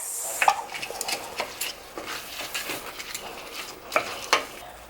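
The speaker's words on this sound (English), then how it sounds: "now I want to go ahead and add my rice in" Parboiled rice going into a pot of cooking vegetables for vegan Jamaican curry yellow rice, soft sizzling with clinks and scrapes of a utensil against the pot, close and without voices.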